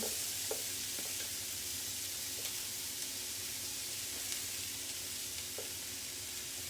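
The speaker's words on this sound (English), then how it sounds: "So we're going to throw those in this skillet of butter." Diced onions sizzle in a skillet of melted butter, a steady close frying hiss running the whole time with a few faint stirring clicks and no talking.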